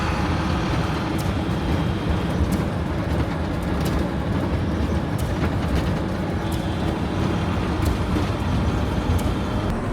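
A 19,000-pound vehicle coasting down a mountain road, producing a steady, loud rumbling road and engine drone with occasional faint clicks and rattles, no talking.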